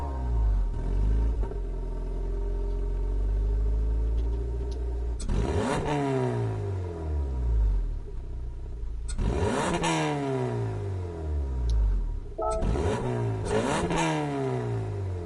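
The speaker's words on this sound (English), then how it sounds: "Go back over to the Elantra. See what it sounds like." Hyundai Elantra sedan engine in Gran Turismo 7 revs up in repeated sweeping bursts, rising and falling through gears, loud and close with a steady rumbling drone between pulls and no talking.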